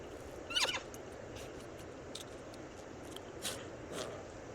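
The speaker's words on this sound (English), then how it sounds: "I want her to feed the horses" Horses in The Sims 4 let out a quick, fairly faint whinny, followed by a few brief scattered squeals and snorts over a soft background hiss.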